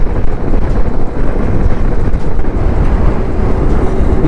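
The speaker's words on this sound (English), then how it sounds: "It's so windy, no?" Strong wind buffets the microphone during a motorcycle ride toward Shivanasamudra's waterfalls, a steady loud low roar that lasts the whole clip with no talking over it.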